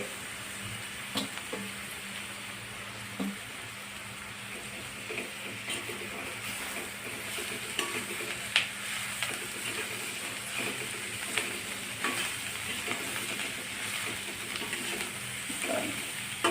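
Finely chopped tender radish leaves sautéed in a pan, with a soft continuous sizzle and occasional faint scrapes and taps of a spatula, quiet and steady.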